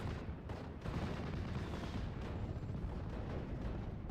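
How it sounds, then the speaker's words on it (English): Artillery barrage in the WWII strategy game Steel Division Normandy 44 during a US campaign mission in Normandy hedgerows: a dense, continuous rumble of booms and distant explosions filling the whole stretch at steady loudness. "they're firing artillery at us"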